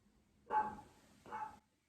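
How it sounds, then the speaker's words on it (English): Two dog barks, a short pause between them, carrying from some distance and moderately quiet against a faint background. "similar to the dogs clearly barking outside"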